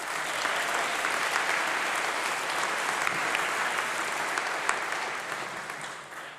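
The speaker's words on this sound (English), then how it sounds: "Isa, huge round of applause" A large congregation audience breaks into sustained applause after a speech, a steady, dense wash of clapping that holds evenly throughout and tapers slightly at the end.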